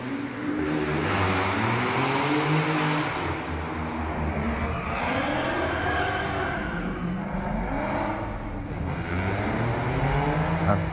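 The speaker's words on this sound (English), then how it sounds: "When these cars started pulling up" Cars pulling up at an outdoor car meetup in the country, engines rumbling and revving steadily nearby with shifting pitch as vehicles roll in, loud and continuous throughout.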